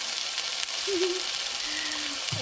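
A homemade hamburger patty fries in a pan with a soft, steady sizzle and hiss, quiet and close, with no voices.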